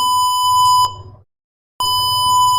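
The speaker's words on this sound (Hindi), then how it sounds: "देखो अब इसको हम रन करेंगे ना तो बजर बोलेगा" Electronic buzzer in an IoT practical circuit sounding a steady, loud, pure tone that cuts out briefly into silence and then resumes, with a faint click at each restart; low background hum, no talking.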